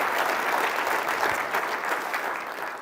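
Audience applause fills a first-class evening event, a dense, steady wash of many hands clapping at once, loud and close, holding evenly throughout without speech.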